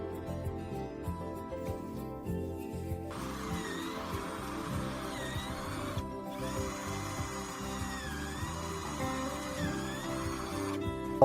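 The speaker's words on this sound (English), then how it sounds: "Drill the outer plate and the reinforcement plate with a smaller drill." A power drill bores holes through the outer body panel and reinforcement plate of a Maxus E Deliver 3 van door, with whining bursts of drilling rising and falling against a steady background hum.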